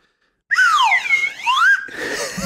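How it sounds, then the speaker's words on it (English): A slide whistle sweeps down, up and down again in loud sliding glides, followed by a brief noisier burst, heard alone with no talking. "Where'd you get that slide whistle?"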